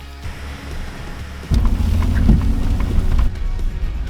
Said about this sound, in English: No, it's raining, which is not fantastic